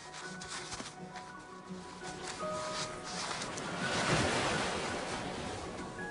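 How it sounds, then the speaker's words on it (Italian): Sea waves wash onto a beach, a soft rushing surf that swells toward the middle and ebbs again, heard with light wind noise and faint tonal background sounds. "Il mare è lì vicino, a 40 metri di distanza."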